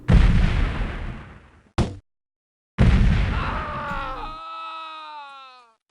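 A loud, close grenade blast in the shooter Delta Force on a snowy Novaya Zemlya mission, its boom decaying over a second, then a second heavy explosion and a pained groan or cry fading away.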